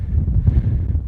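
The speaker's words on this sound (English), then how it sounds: "It's getting a bit windy." Wind blowing on a walk in the woods, heard as a loud, low, buffeting rumble battering the microphone throughout the short stretch, with no talking.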